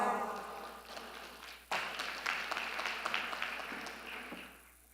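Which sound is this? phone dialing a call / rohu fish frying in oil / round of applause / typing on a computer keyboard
round of applause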